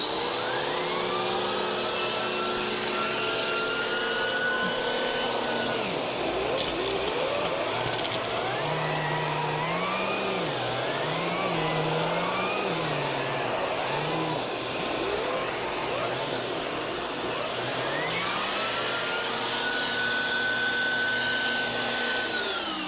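A Bissell 2252 CleanView Swivel Pet vacuum cleaner runs with a steady, loud suction roar that holds throughout, its pitch shifting and warbling as the nozzle moves and airflow changes.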